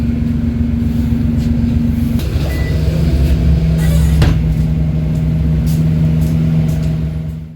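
Onboard the 424 bus toward Crawley Bus Station, the engine hums loudly with a steady low drone and a tonal whine, shifting pitch as it pulls away, with occasional clunks and rattles.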